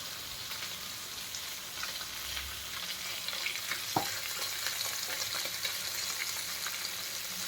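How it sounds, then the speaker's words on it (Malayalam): Pieces of fish fry in a pan of oil with a steady close sizzle and fine crackling, plus a faint low clatter and a brief knock midway, with no voices. "എല്ലാ മീനും ഇട്ടിട്ടുണ്ട് കേട്ടോ വറുക്കാൻ"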